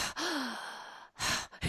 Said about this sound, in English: you just sit there and breathe like that for 45 minutes